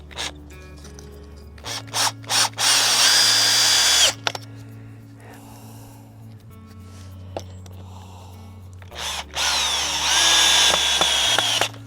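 A cordless power drill drives thicker screws during an allotment repair, whining up in loud bursts of a few seconds each with pauses between, close by, with faint handling noise in the gaps.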